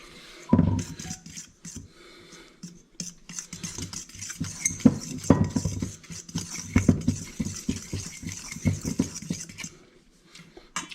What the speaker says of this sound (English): Now I stir in the salt